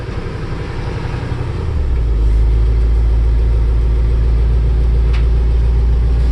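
Engine of a 1965 Ford F250 Custom Cab Camper Special truck running close by, a steady low rumbling idle that deepens and grows louder after a couple of seconds, then holds even with no talk.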